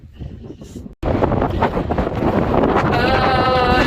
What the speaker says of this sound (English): Oh my god, that wind.